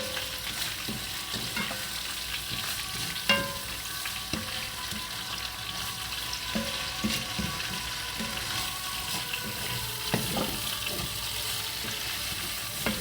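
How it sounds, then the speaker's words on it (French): Rice and vegetables stirred in a frying pan, a continuous close sizzle with repeated scraping and clinking of the utensil against the pan at an irregular pace. "Je vais bien mélanger."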